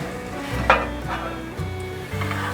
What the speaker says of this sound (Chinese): 慢慢的炒，让豆渣都充分吸收真老小磨白麻油